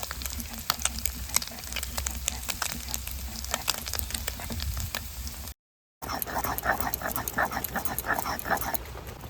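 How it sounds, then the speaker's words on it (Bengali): Dried red chillies skewered on broom sticks roast over a clay stove fire, giving off quiet, irregular crackles and sharp pops with a faint sizzle, broken by a brief silent gap midway. "এবার উনুনে দিয়ে পোড়াবো"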